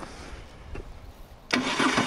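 A Moto Guzzi Stelvio motorcycle, a hard-starting bike with 160,000 km on it, gives a couple of starter turns, then the engine catches and runs loud and close.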